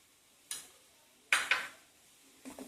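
A spoon stirs spiced potatoes with chilli powder in a pan for a South Indian potato fry, giving three short scraping clatters against the metal pan, close up, with a quiet pause between each.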